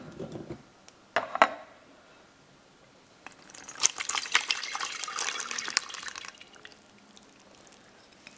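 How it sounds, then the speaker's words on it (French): Cherry juice pours and drains through a kitchen sieve to separate it from the Bigarreau cherries, a steady close trickle and splash after a few brief knocks, fading out toward the end. "Je vais filtrer pour prendre le jus, pour imbiber ma génoise et garder les Bigarro."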